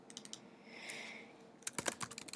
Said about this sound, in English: I'm just going to type my name.